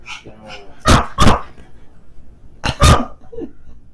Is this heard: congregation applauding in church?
no